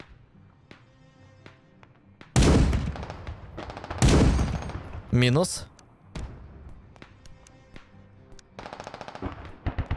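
Bursts of rapid machine gun fire in the video game Squad crack loudly between quieter stretches, with someone speaking briefly in Ukrainian and softer distant shots near the end.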